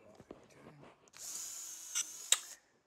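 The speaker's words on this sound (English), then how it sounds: "I'm pre-drilling the holes" Power drill pre-drilling holes for 3.5-inch wood screws through a stair tread, a single whining burst lasting over a second that rises in pitch before cutting off, following brief speech and handling noise.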